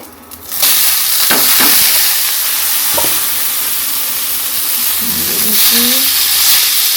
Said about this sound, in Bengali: তেলের মধ্যে বন্ধুরা আমার শাক ভাজি হয়ে গেল